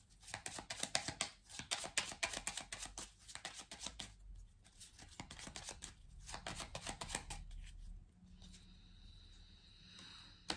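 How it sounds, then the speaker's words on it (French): Tarot cards shuffled and laid out on a table, close and quiet: dense papery riffling and flicking in bursts with short pauses, ending in a quieter stretch of light handling, no speech. "Allez, on va recouvrir quelques cartes pour vous"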